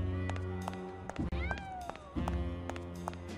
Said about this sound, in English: You hear the cats racing?